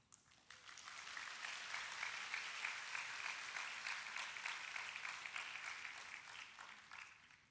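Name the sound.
applause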